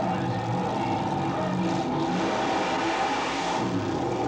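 Supercharged, fuel-injected Chevy small block running on alcohol in a drag racing Jeep, roaring and revving loudly and steadily throughout with a dense, continuous engine drone and no talk.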